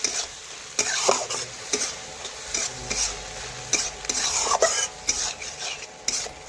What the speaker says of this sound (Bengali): এখন নাড়াচাড়া করে ভালোভাবে মিশিয়ে নিলাম